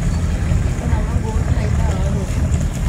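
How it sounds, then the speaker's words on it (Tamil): A boat approaching across the water: a broad, steady engine-and-water rumble with wind buffeting the microphone, close and fairly loud throughout. "ஒரு போட் ஒன்று வந்துகிட்டு இருக்கு இப்போ"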